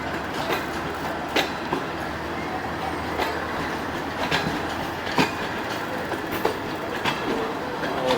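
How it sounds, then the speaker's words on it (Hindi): The 7up Tezgam passenger train rolls through a loop line, a steady rumbling ride with repeated clickety-clack wheel beats over rail joints, heard from on board, continuous and moderately loud without talk. "और हमारी ट्रेन लूप लाइन से गुजर रही है।"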